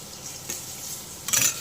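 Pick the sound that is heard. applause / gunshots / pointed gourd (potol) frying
pointed gourd (potol) frying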